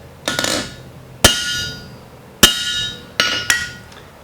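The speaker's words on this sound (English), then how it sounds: "So I'm going to place this rivet right on the edge of the anvil." A hammer strikes a rivet set on the edge of an anvil for a bulls eye pick, five sharp ringing blows spaced about a second apart, with a brief spoken phrase between them.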